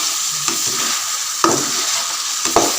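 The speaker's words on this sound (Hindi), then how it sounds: "हम चिकन को भूनेंगे और हरी मिर्च टमाटर वगैरह को भी" Chicken frying in a pan with green chillies and tomatoes gives a steady, loud, close sizzle, broken by a few soft scraping stirs.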